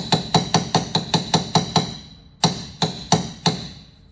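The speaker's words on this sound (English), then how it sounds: "so I'm gonna tap on this side" Hammer taps driving a rear wheel bearing into place on a 2006-2012 Ford Fusion: a quick run of about nine sharp metallic blows, a pause, then four slower strikes, close and clear.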